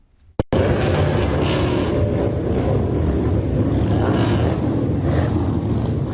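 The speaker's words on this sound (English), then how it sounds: "The roar of motorbikes and souped-up cars rang out in Grey Lynn" Motorbikes and modified cars roaring together as several hundred people gather for a gang funeral procession in Grey Lynn, Auckland, a dense loud continuous engine rumble that starts abruptly and holds steady.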